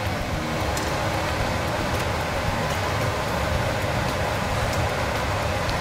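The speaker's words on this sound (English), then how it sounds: "I'm actually going to put my vent hood on as well, pardon the noise." Kitchen range vent hood fan running steadily in a home kitchen while sweet potato fries cook, a constant broadband whoosh with no breaks, moderately loud and close, with no talking over it.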